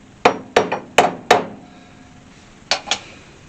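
Four sharp framing hammer blows on metal in a quick even rhythm, a pause, then two more lighter strikes with a slight metallic ring, close and loud, while installing brakes on a 1964 Ford Falcon.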